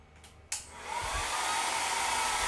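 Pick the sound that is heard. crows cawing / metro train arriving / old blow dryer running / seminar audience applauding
old blow dryer running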